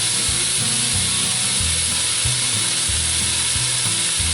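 Moose meat searing in oil in a cast iron Dutch oven gives a steady, loud sizzle that holds without a break throughout, with no voices.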